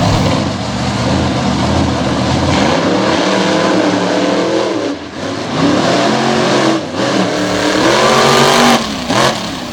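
The Virginia Giant racing truck roars around a slick dirt track, its engine loud and continuous with rising and falling revs and one brief dip, heard up close.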